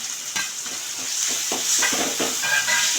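Ginger garlic paste sizzles in hot oil for a chicken gravy, a steady bright hiss with repeated scraping stirs from a spoon in the pan, close and loud with no talk.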